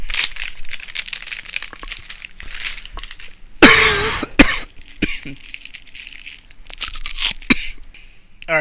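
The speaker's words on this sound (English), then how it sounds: "I was coughing like fucking crazy, so I had to stop the video." A man coughs in several rough, irregular bursts at close range, with crackly, noisy fits of varying length and short pauses between them.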